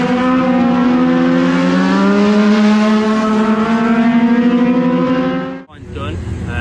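Race car engine screaming at high revs on track, a steady loud harmonic whine with slight pitch sweeps as it passes, cutting out abruptly near the end to a quieter rumble.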